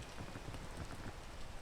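Rain falls in the game PEAK as a soft, constant wash of hissing drops, faint and uninterrupted over a brief stretch.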